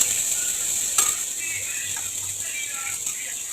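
Chopped tomato frying in a pan gives a soft, steady sizzle with a light stirring clatter near the start, close and fairly quiet.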